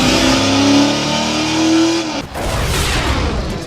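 A car engine in the racing game Split/Second revs loudly from low to high RPM, pitch climbing smoothly for about two seconds before cutting off into rushing noise.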